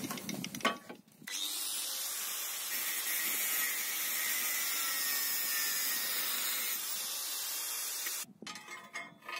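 An angle grinder or similar power cutter trims off the excess of a bolt welded onto a homemade rebar bender. The cutting is loud, steady and high-pitched for about seven seconds, with clanks of metal handling before and after.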